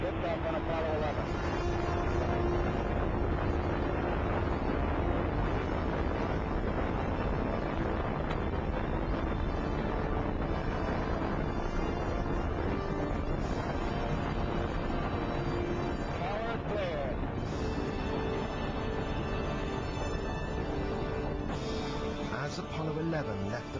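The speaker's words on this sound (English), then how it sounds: "All engine running. Liftoff. We have a liftoff." The Apollo 11 rocket engines at liftoff give a powerful, continuous roaring rumble that fills the whole stretch at a steady, heavy level.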